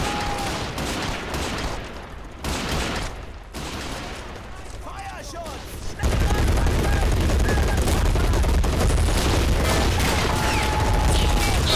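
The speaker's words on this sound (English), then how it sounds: "Constant MG fire, keeping the Russians pinned from every angle." Machine guns in Men of War keep up constant fire: dense, continuous rattling bursts with occasional booms, quieter and patchy at first, then loud and unbroken in the second half.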